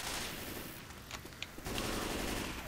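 Rapid bursts of automatic gunfire in Left 4 Dead 2, a dense continuous rattle of shots with a brief lull in the middle before the firing picks up again, loud and close, no voices.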